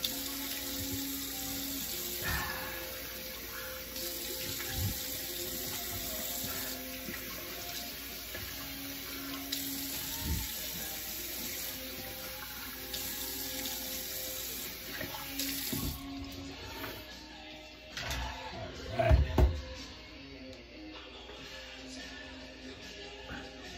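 Water runs from a sink tap as a man rinses his face after a straight razor shave, a steady broadband hiss with a few clunks and splashes, heard close up and with no talk.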